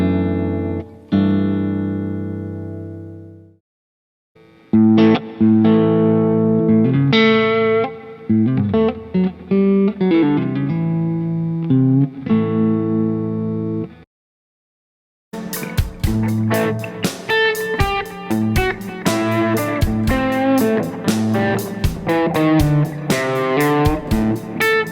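An electric guitar runs through an overdrive pedal, first with sustained ringing chords, then short picked phrases, then a denser, brighter strummed passage with heavier drive, separated by brief pauses, with no talking.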